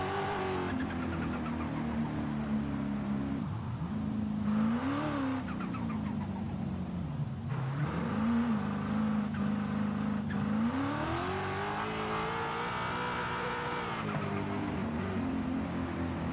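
Formula D BMW M2 in the racing game Forza Horizon 5, cruising with a steady loud engine drone that rises and falls through gear changes, accompanied by tire noise, with no talking.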